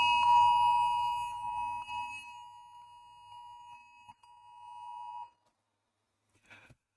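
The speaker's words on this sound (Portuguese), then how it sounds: "para vocês verem como é que é o alarme aéreo aqui" An air raid alert in Ukraine sounds on a phone and smartwatch as a steady electronic alarm tone for several seconds with a buzzing undertone, then stops; a brief faint chime follows after a pause.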